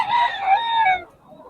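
A rooster crows loud and close at a chicken market in Bocaue, one long drawn-out call lasting about a second before fading into quieter market background.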